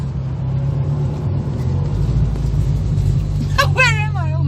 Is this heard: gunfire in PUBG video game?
no